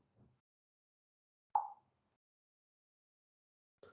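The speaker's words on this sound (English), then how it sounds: "If I close my eyes for 500 milliseconds, you will hear a click." One short, crisp digital click stands out in near silence, with faint soft noises just before and after it.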